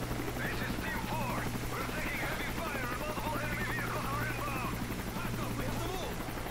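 Helicopter arriving for a pickup in the video game Call of Duty MW3, a steady rotor drone holding throughout amid battle noise, with a voice talking over it.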